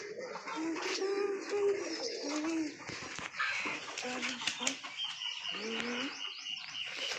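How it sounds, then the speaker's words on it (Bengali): Outdoor pigeons, adults among growing young, give repeated low cooing calls with some chirping, close and fairly loud, overlapping into a busy flock murmur. "সব পায়রাগুলো এখানে বাইরে রয়েছে।"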